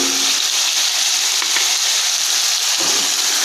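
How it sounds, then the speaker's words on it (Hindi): Mutton frying with tomatoes and green chilies in a village-style palak gosht preparation gives off a loud, dense, steady sizzle and hiss that runs continuously without pause, close up and with no talking. "थोड़ा सा करेंगे फ्राई।"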